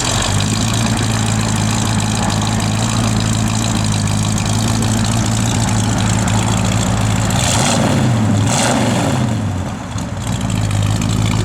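A 1971 Dodge Demon engine idles steadily and loud, with a low rumbling drone throughout and a brief blip of revs near the end.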